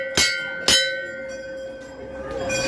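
Two sharp metallic strikes of a bell at a temple beside a pond ring out about half a second apart, each leaving a long sustained ringing tone that slowly fades.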